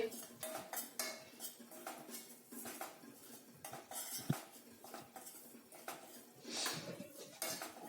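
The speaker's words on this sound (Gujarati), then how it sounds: "સતત હલાવવું પણ જરૂરી છે" Ragi flour roasting in a pan while a metal spoon scrapes and stirs it continuously, giving faint, close clinks and scrapes in an uneven rhythm, with no talking over it.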